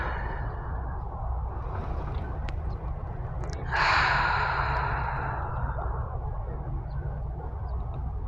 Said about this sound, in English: Take a couple deep breaths in.